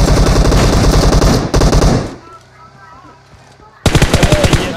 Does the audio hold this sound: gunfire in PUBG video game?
yes